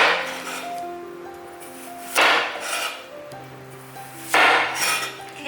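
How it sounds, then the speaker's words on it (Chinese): A kitchen knife chops a peeled daikon radish into large roll-cut chunks on a board, two distinct loud chops ringing out between quieter scraping and handling, with soft background music underneath. "把白萝卜切成滚刀状。"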